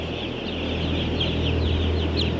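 A crowd of chickens clucking continuously inside a poultry house, with a steady drone of fans or machinery underneath and a few sharper calls rising out of the flock.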